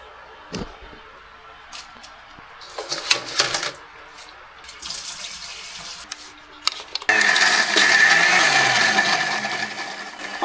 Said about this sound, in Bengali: অনেক ব্লেন্ডার আছে, মেহেদি পেশা যায় না, আমারটা মাশাআল্লাহ ভালোই হয়